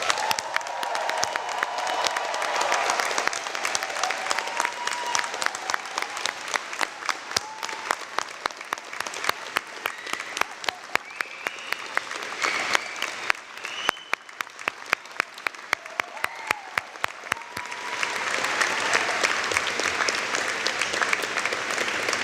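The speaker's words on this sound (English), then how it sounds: "please join me in applauding the graduating class of the fall of 2021" A large audience at a university fall convocation ceremony applauds the graduating class, with dense, sustained clapping that carries on steadily throughout, with a few faint cheers mixed in.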